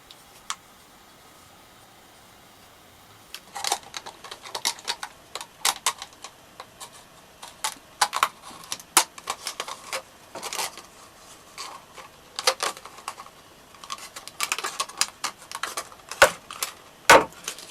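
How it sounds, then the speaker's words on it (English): A plastic Coke bottle cylinder is cut in half: after a quiet opening, close, sharp crackles and snips of plastic come in irregular bursts. "And now I'm going to cut this cylinder in half."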